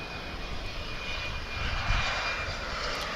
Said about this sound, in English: we're seeing a flight coming in from Killeen